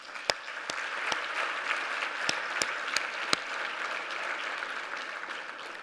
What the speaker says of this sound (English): I really want us to applaud all of you